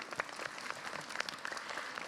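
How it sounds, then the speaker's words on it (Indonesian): Applause from a studio audience at an Islamic talk show, with scattered individual claps standing out over a soft, steady clapping bed, fairly faint and slightly distant. "tepuk tangannya dong Bu"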